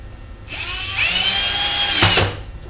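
A power drill whirs loudly, steady high-pitched motor whine that rises in pitch partway through, with a sharp burst near the end before winding down.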